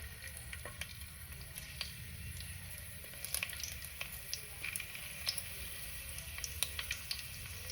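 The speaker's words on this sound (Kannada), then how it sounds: "ಈಗ ಅದಕ್ಕೆ ಎಣ್ಣೆ ಹಾಕಬೇಕು. ಜಜ್ಜಿದ ಬೆಳ್ಳುಳ್ಳಿ" Crushed garlic fries gently in oil in a pan for a Mangalore chicken curry, a faint low sizzle dotted with small crackles and pops.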